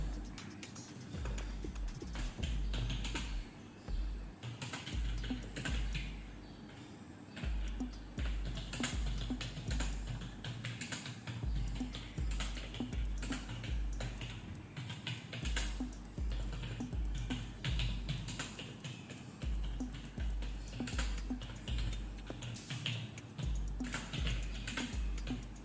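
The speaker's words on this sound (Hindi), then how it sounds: "तो यहाँ पे जो आप अच्छे से कीबोर्ड के साथ जो है टाइप भी कर सकते हो" Continuous, moderately quiet clatter of keystrokes on a Logitech MK235 wireless keyboard, fast irregular tapping with brief pauses, heard alone without talk.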